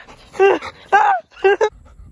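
Close, quick panting from an excited pet dog comes in three short breathy bursts with brief pauses between them, and soft whimpery tones mix in.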